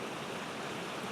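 Small waterfalls and cascades of a stream give a steady, close, broadband rush of falling water that holds even throughout, with no voices.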